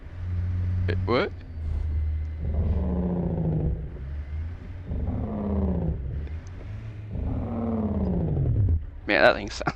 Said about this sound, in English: It sounds more like a car than it does a truck.